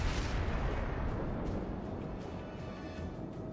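Heavy naval gunfire in the World of Warships game, with the battleship Fuso firing its big guns: a booming broadband blast at the start trailing into a sustained rumbling roar, loud and close, with no speech.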